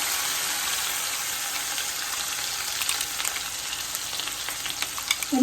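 Ground masala roasts in hot oil in a pan, producing a steady, even frying hiss throughout with a few light stirring clicks near the end.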